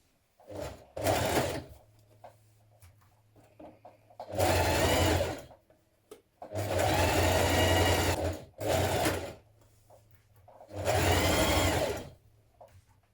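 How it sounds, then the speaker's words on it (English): A sewing machine stitches dress shoulder seams with a 1 cm seam allowance, running in five loud bursts of steady whirring separated by short pauses, close and alone. "we're going to stitch those in place with a 1 centimetre seam"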